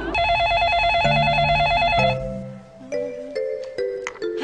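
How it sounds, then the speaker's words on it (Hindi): A telephone rings with a warbling electronic trill, repeating loudly for about two seconds before stopping, followed by a few softer beeping tones, with no talk. "किसका फोन है?"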